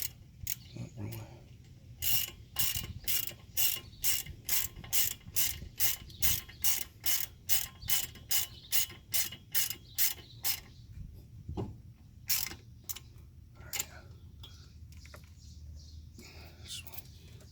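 A ratchet clicks rapidly in bursts as a brake bolt is tightened on a 2009 Ford Taurus X during a front brake and rotor job, dozens of sharp close ticks in steady rhythm with brief pauses.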